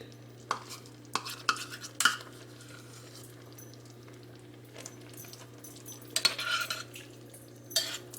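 Sour cream is stirred into meatballs in a crockpot, a spoon scraping and clinking against the pot in scattered, faint strokes with quiet gaps, nearby and unaccompanied by speech.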